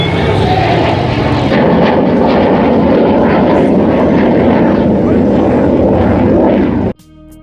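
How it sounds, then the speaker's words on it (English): A military jet at the Avalon Australian International Airshow 2025 accelerates into a near-vertical climb, a loud, sustained roaring engine rush that fills the air, then cuts off abruptly near the end. "Accelerate the aircraft into a near vertical climb"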